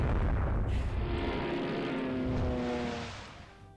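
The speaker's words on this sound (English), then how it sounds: "She's taken a torpedo hit from an enemy strike package." A torpedo strikes a warship in the naval strategy game Rule The Waves 3, a loud, booming explosion with a heavy low rumble that holds steady, then fades out over the final second.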